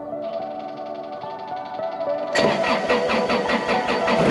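A tractor engine cranks and catches, settling into a low idle before surging to a loud, rough running roar that continues steadily to the end, close by with no voices.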